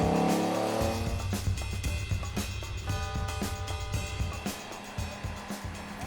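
Aluminum-bodied Mercedes 300SL, freshly restored, driven on a test track; a steady engine drone with shifting revs and a rising pitch sweep at the start, heard alone without talk.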